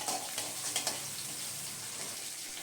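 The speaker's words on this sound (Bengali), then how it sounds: "পেঁয়াজটাকে 3 থেকে 4 মিনিটের জন্য নেড়েচেড়ে নিয়ে একটু ভেজে নেব।" Chopped onion frying in a pan, a soft continuous sizzle with a few quick scraping stirs near the start, fairly quiet and close.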